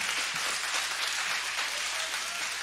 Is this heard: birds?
no